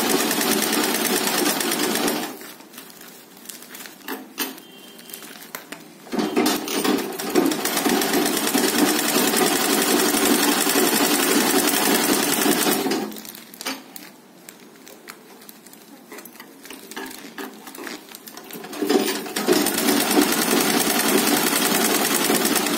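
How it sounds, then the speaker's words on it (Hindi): A sewing machine stitches the top cover onto a green bag in two long, loud, rapid whirring runs, each broken by a short quieter pause while the fabric is repositioned. "अब ये ऊपर का कवर इसकी सिलाई करेंगे इसके साथ अटैच करके।"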